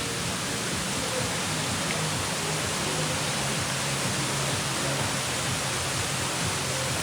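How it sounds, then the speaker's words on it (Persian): A constant rushing roar of falling water from the Zamrud waterfall in Gilan fills the scene, loud, near and unbroken throughout. "اول اصلی آبشاره"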